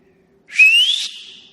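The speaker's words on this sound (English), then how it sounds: "Boy, that is some whistle." A single loud, shrill whistle blown by a person rises sharply out of near silence and holds for about half a second before cutting off, close and piercing.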